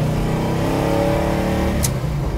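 A Chevy Nova and Camaro drag car accelerates hard with a loud, close engine roar that climbs in pitch, then shifts into second gear with a brief break in the sound before pulling on.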